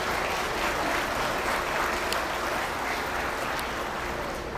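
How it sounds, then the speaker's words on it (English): Audience at a beef cattle showmanship event giving a steady round of applause, continuous clapping from a moderate crowd with no talking. "Let's give them all a round of applause around here."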